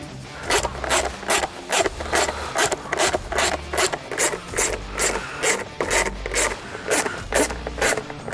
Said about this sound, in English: we can go ahead and take the screws out of our old lid and install them in this one